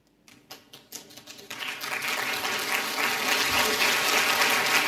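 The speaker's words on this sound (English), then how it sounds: "if you could just give me a round of applause and welcoming back" Audience at a World Economic Forum panel session in Tianjin breaks into applause, starting with a few scattered claps and swelling within a couple of seconds into sustained, dense clapping from a large crowd.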